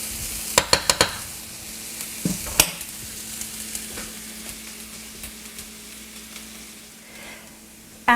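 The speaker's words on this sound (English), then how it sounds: "you're going to saute these for about 5 minutes in the oil until they're translucent" Diced onions sauté in oil in a pan, giving a soft, steady sizzle broken by a few sharp clattering stirs of a utensil early on, then quieter crackling and occasional light scrapes.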